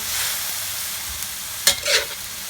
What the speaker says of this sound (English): You can put shrimp in the pan and fry it.